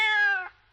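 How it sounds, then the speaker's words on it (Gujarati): A single cat meow, loud and close, is drawn out for about half a second with a falling pitch. It fades quickly into quiet. "મ્યાઉ મ્યાઉ એવો મોટો અવાજ ના કરીશ"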